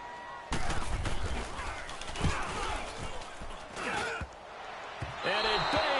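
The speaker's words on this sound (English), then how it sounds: "it bangs off the left upright and deflects away" In Madden 19 gameplay, a football kick bangs off the left upright with a sharp metallic slam, amid crowd noise and other game sounds, with commentary voices over the action.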